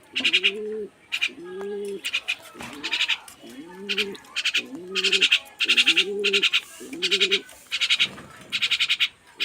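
Spotted doves coo repeatedly in a steady series of soft, low, two-part calls, close and clear, with bright chirping from other small birds overlapping between the coos.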